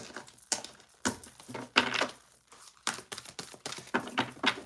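Playing cards shuffled by hand during a live card reading, heard as a series of crisp riffling bursts with short pauses between them, close and fairly loud.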